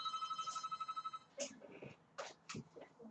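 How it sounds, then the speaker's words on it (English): A telephone rings in a steady pulsing pattern of about a dozen quick repeated bursts, then stops and gives way to faint clattering and handling noises close by in a quiet room. "I've got to answer this phone."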